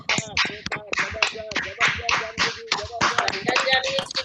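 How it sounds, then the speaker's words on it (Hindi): Participants in an online session clap over open microphones, producing a thin, compressed patter of scattered claps mixed with overlapping cheering voices. "सभी लोग अपना माइक ओपन करके एक बार जानवी जी के लिए जोरदार"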